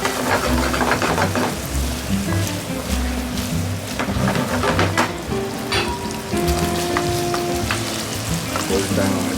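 Scallop and squid pasta sauce with tomato sizzles and bubbles steadily in a pan, a continuous close frying hiss with no voices.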